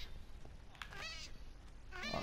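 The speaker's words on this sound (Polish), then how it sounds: "Kot sobie wpadł." A cat meows in Minecraft, a couple of short plaintive mews over a quiet game background, fairly close.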